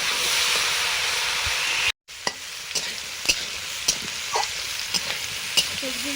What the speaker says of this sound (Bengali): সবজিগুলো মোটামুটি ভাজা হয়ে গেছে।